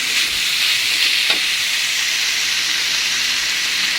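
Tempe sizzles steadily in a pan with soy sauce and spices while being stirred, a constant close hiss of frying with a faint scrape of the spatula partway through.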